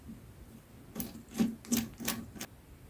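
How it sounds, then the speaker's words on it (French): A hand screwdriver drives a screw into a plastic fan stand, giving a few close, quiet scraping and rasping turns spaced unevenly over a few seconds, with no talking. "Vous allez prendre votre tournevis et la visser à l'intérieur."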